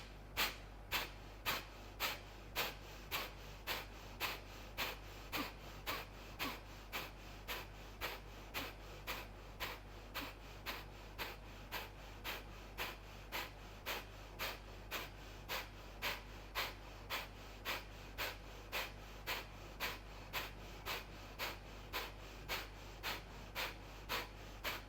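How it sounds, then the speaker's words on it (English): Rapid, forceful Kapalabhati yoga exhalations in a quiet room, sharp, evenly spaced nasal puffs repeating about twice per second throughout, close and fairly soft, with no talking. "And now we will make the Kapalabhati 50 times."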